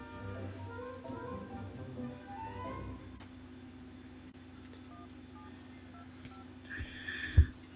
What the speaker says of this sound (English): You're ringing your daughter.